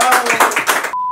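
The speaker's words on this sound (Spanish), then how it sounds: "Un aplauso, por favor." A studio audience claps in a short burst at the close of a Tú Quieres Show episode, then a steady electronic beep takes over.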